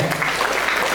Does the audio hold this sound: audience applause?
yes